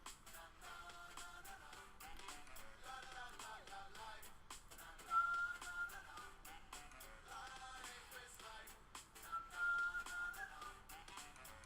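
A person whistles a melodic tune steadily and fairly close, with soft music or background sound beneath and little talk.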